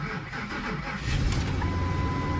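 A damaged Ford F-150 pickup truck engine cranks briefly and catches, settling into a rough, steady idle that stays loud and close.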